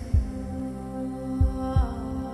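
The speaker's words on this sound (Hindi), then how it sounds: "हर किसी का दिल इसी तरह धड़कता है।" A heartbeat sounds as deep, booming thumps in a Hindi horror film: one beat, a pause, then a closely spaced pair over a low, sustained hum.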